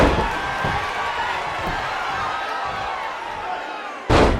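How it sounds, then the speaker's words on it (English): In WWE 2K19's ECW One Night Stand 2005 pay-per-view, a wrestler is slammed to the mat: one sharp, heavy impact lands near the end over a constant roaring crowd. "Oh, what a slam."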